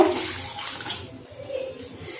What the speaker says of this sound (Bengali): এর মধ্যে আমি এখন পানি দিয়ে দিব।